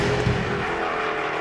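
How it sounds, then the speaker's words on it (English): 2015 McLaren 650S supercar with a twin-turbo 3.8-liter V8, heard as a brief, loud rumble of engine and road noise with no talking. "That's a 2015 McLaren 650S"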